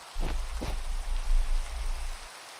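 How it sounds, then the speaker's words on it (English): Steady Minecraft rain hisses softly in the background, a faint, even wash with a low rumble underneath, cutting off near the end, with no voices. "I actually really like the sound of Minecraft rain"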